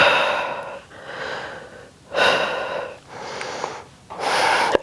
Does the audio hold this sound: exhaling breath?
yes